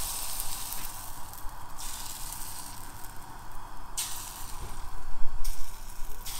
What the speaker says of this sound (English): When you can hear that sizzle,